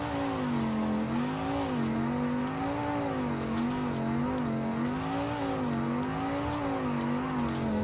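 A car engine drones steadily in Forza Horizon 5, with a wavering, slightly revving tone that rises and falls in a slow rhythm, continuous and fairly close, with no talking.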